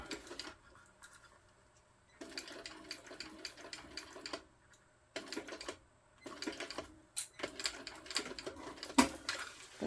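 A sewing machine stitches a reinforcing row on a tote bag strap in several short, rapid bursts separated by brief pauses, close and moderately quiet.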